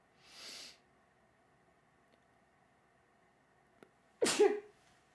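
A breathy inhale, a pause, then one loud explosive sneeze close to the listener, followed by quiet.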